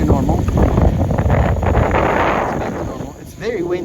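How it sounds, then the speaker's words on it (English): Strong wind buffeting the microphone outdoors at a radio-controlled model helicopter flying field, heavy low rumbling gusts that ease toward the end, with someone talking over it. "It's very windy."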